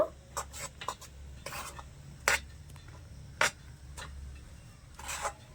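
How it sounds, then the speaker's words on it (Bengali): Rice flour stirred in a pan over low gas heat: soft scraping strokes and a few sharper clinks of the spoon against the pan, spaced irregularly over a low steady hum. "গ্যাসের একদম হালকা রেখে নেড়ে ছেড়ে মিশিয়ে নেব"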